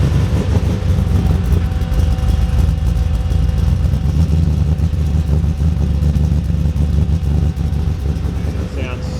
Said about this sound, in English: like that's actually a very respectable sounding car now